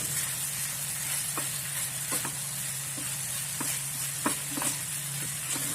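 Meat stir-frying in a pan with bay leaf, galangal, ginger, turmeric and spring onion, a steady close sizzle with light scrapes and taps of a spatula scattered through it, and no talking.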